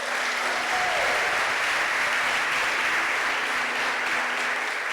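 Congregation at a church service clapping steadily throughout, a dense, even wash of applause from many hands with no one speaking over it.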